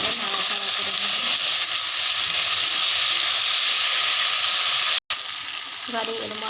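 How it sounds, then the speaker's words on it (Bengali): Ginger garlic paste fries in a pan with a loud, steady, continuous sizzle and hiss, broken by one very brief dropout near the end. "এবারে এর আদা রসুনটা ভাজা হয়ে গেছে"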